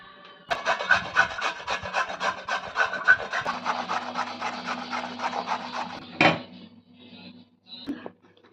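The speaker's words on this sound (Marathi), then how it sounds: "गाजर स्वच्छ धुवून घेतले आता किसूया आपण" Carrots being grated for carrot halwa, a rapid rhythmic rasping scrape close up for several seconds, then stopping with a couple of clattering knocks.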